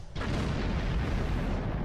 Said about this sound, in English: Before that explosion.